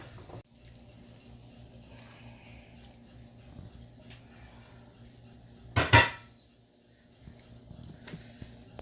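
Fried chicken being dished out of a kadhai pan, with quiet scraping and a sharp metallic clatter of utensil against pan near the middle, set against a low kitchen background.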